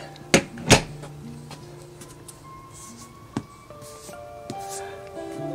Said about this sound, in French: Alors, on ferme la porte.